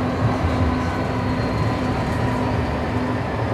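A city tram rumbles past on a street, a steady loud rolling drone with a faint tonal hum, continuous throughout with no voices.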